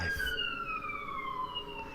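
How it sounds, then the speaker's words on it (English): A police or ambulance siren wails outside, its falling tone sweeping steadily downward and sustained through the whole stretch at moderate distance. "Almost definitely going to hear an ambulance outside of our place."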